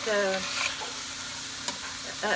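Celery sizzles and is stirred in a pan with browned hamburger meat and a little grease for chili, a close crackling fry with scraping spoon strokes, no talking.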